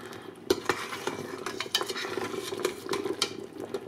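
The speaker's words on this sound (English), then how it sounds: "So I just give that like a little stir there." A spoon stirs a thickening beef short rib sauce in a pot, producing close, irregular scrapes and clinks against the metal with a faint bubbling sizzle beneath, no talk.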